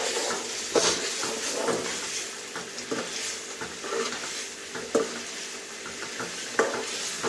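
Chavanu curry being stirred in a pan: rhythmic spatula scrapes and knocks over a low, steady sizzle, close and clear, repeating roughly every second with no speech.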